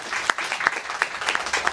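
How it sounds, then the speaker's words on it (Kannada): A brief burst of audience applause at a literary evening event, with scattered, uneven claps for under two seconds. "ನನ್ನ ಪರವಾಗಿ ದಯವಿಟ್ಟು ತಾವೆಲ್ಲರೂ ಅವರು ಚಪ್ಪಾಳೆ ಹೊಡಿಬೇಕು"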